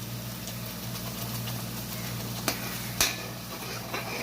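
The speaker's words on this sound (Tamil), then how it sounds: "தக்காளி கலவையை சேருங்க." A tomato mixture for fish curry sizzles steadily in a hot pan while a spoon stirs it, with a couple of sharp scraping knocks against the pan.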